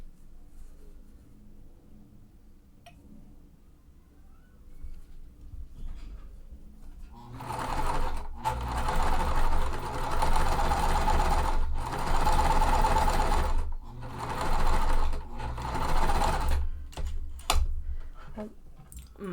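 A sewing machine stitches a quilt in bursts: quiet at first, then steady loud runs of rapid mechanical whirring broken by several short pauses, close up with no talking.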